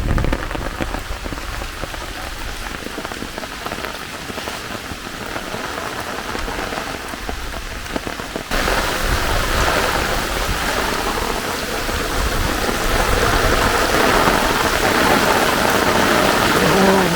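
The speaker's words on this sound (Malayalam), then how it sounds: "നല്ല മഴയാണ്" Heavy monsoon rain pours down continuously, a dense hiss of drops on surfaces that grows louder partway through and stays steady to the end.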